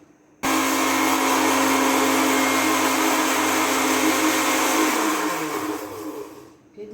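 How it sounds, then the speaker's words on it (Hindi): A kitchen blender grinding an egg for marble cake batter starts abruptly and runs at a loud, steady whir for several seconds, then winds down as the motor slows and stops. "इसको थोड़ा सा ग्राइंड करेंगे"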